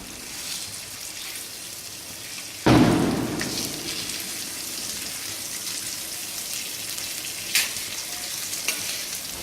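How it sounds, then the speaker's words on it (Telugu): Vanjaram fish fries slowly in a pan with a steady, close crackling sizzle like light rain, a sharp spatter burst early on and a couple of brief knocks later. "నిదానంగా కొంచెం ఓపికగా వేపుకోవాలి."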